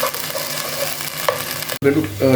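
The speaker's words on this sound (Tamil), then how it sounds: "நம்ம ஒரு 2 டீஸ்பூன் இஞ்சி பூண்டு பேஸ்ட் அது நல்லா எண்ணெயிலே வதக்கிக்கோங்க." Ginger garlic paste sautéing in hot oil gives a close, steady sizzle with stirring scrapes, cut by a sudden brief break before the sizzle resumes with a harsher crackle.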